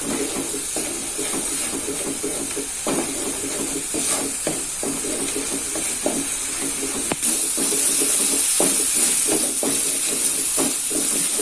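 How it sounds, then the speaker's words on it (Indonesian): Seasoning for grilled sweet-spicy catfish being stir-fried in a pan on the stove, a steady sizzle and hiss with intermittent scraping stirs, close and continuous, no talk. "Dan ini ditumis atau digongso sampai tanak."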